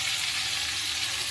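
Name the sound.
marinated loitta fish frying in hot oil in a wok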